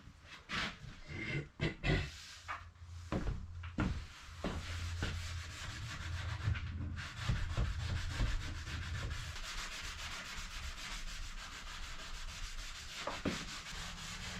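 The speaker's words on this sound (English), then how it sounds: "as soon as you rub that down a little bit, boy, it really gets nice and smooth" Hand sanding the coated wood finish of a cabinet in a 2002 MCI bus conversion, with repeated close scratchy rubbing strokes, a few sharp knocks early, then a steady, sustained grinding rasp.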